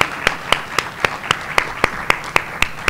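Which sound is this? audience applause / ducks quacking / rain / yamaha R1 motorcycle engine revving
audience applause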